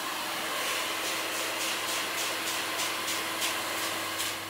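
A blow dryer drying freshly cut short hair during a flattop haircut, a steady loud whooshing hum with a constant motor tone, faintly pulsing as it moves around the head, with no talking.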